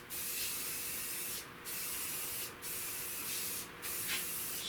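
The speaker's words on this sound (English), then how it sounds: "spray this down with the sandable primer" Continuous hissing bursts of sandable primer spray in four long passes separated by brief pauses, close and steady, with no talking.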